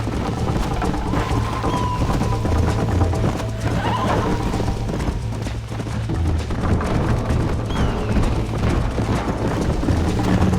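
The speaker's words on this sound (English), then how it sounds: "I think you chose the wrong horse, Miss McFarland." A horse gallops at speed in Red Dead Redemption, its steady drumming hoofbeats running throughout with neighs and whinnies on top, set against a dense outdoor wash that could be rain.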